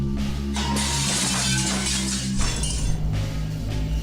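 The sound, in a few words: glass breaking, audio drama sound effect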